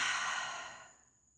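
One long, deep exhale during a slow, meditative tarot moon reading, a soft airy sigh close to the microphone that fades gradually into quiet, with no talking.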